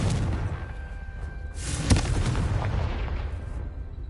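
A Confringo spell explodes in Hogwarts Legacy: one sharp blast strikes midway through a dense, steady bed of rumbling game ambience that runs the whole time.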